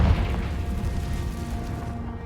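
A Confringo blasting spell goes off in Hogwarts Legacy, a low booming burst at the start that rolls into a rumbling decay and fades out over about two seconds.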